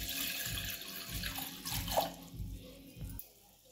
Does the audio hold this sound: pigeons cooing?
no